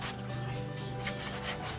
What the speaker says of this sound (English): with the sanding paper now I'm just taking out all the